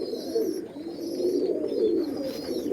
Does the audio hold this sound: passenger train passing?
no